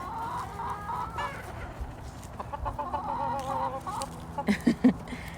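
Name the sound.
chickens clucking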